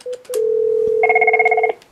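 Cisco 6945 IP desk phone sounds a steady dial tone after a couple of short key beeps, the tone then thickening into a brighter multi-pitched hum before cutting off, close and clear.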